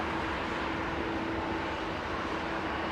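A Boeing 777 arrives on runway 27R at London Heathrow with a steady, broad, distant roar of jet engines and a faint sustained hum underneath, with no voices.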